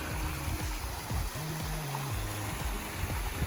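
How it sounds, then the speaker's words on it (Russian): Cascading waterfalls on the Kuago River in autumn give a steady, even rush of water that fills the whole clip, with a low motor-like hum running beneath it. "Очень красивые каскадные"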